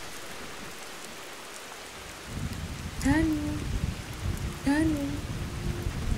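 Rain falls steadily, a dense hissing wash that swells partway through, while a person's voice rises over it twice.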